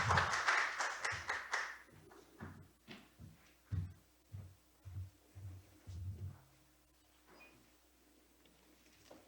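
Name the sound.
audience applause welcoming a presenter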